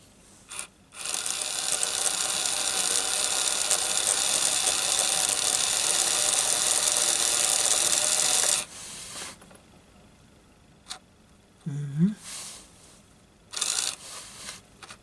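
Noisy motor mechanism of a Grafar GWR model railcar whirring and rattling steadily for several seconds before stopping, followed by quiet clicks and small handling noises.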